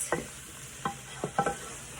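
Shrimp cook over lowered heat in a pan for Cajun shrimp pasta, with a faint background hiss and four or five distinct scraping stirs of a utensil spaced irregularly, close and without talking.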